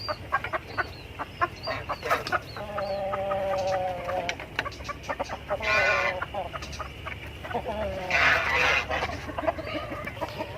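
Native chickens, a rooster among hens, cluck and squawk close by in bursts and a couple of louder calls, while someone talks over them.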